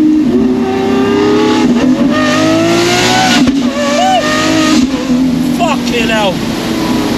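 Straight-piped Lamborghini Aventador SVJ Roadster exhaust revving loudly close by, with rising and falling engine pitch sweeps and sharp pops, under excited talking.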